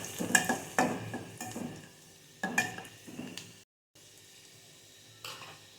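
Garlic and curry leaves fry in hot oil with mustard and cumin seeds, giving a soft sizzle broken by intermittent scraping and clinking of a spoon against the pan.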